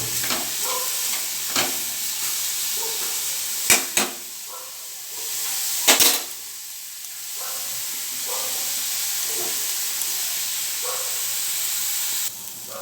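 Raw papaya fries in a hot wok, a steady close hiss and sizzle broken by repeated stirring scrapes and a few sharper bursts, with no voices.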